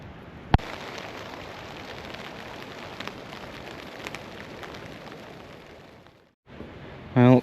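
Steady rain patters on a cheap charity-shop tent through a wild-camping night in Scotland, a dense, even hiss with a sharp knock near the start, dropping out briefly before a closing burst of noise.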